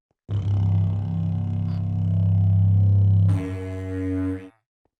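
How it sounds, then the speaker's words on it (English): A horn blown in the Minecraft video game lets out a deep, loud, sustained tonal blast, shifting to a brighter, higher pitch before ending after about four seconds. "Let's see what this horn sounds like."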